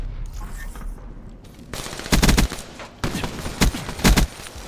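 VMP submachine gun firing in Black Ops 3, two loud rapid automatic bursts in close succession after a quieter stretch of game ambience.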